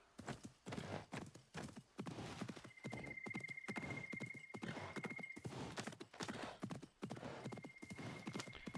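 Horse hooves galloping in the video game Assassin's Creed Mirage: steady rhythmic clip-clop of hoofbeats throughout, with a horse whinny and occasional game tones, no talk.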